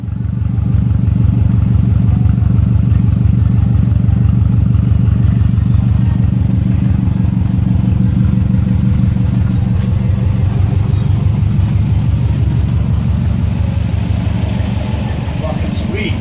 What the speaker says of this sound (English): That exhaust thing doesn't even sound that bad no more.